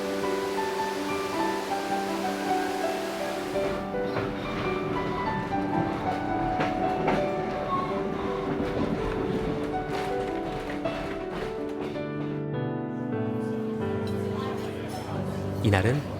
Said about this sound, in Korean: 다른 절경이 펼쳐질 때면 기차는 다시금 서행합니다.